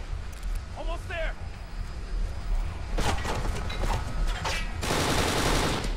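Gunfire from the video game Kane and Lynch 2 during an airport firefight, bursts of rapid shots over steady game ambience, with a voice talking early on.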